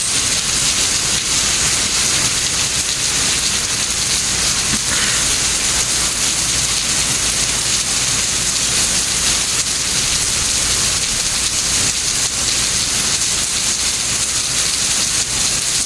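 Steady, dense rain falls in Singapore, a continuous even hiss with no pauses or breaks throughout, loud and close with no voices.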